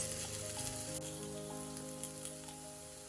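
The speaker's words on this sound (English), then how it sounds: "Next, I'll add in the chopped onions. Give it a quick mix and cook the onions for 2 minutes." Chopped onions fry in white oil in a pan with a soft, even sizzle and faint crackles. Gentle background music plays underneath, and the sound fades slightly toward the end.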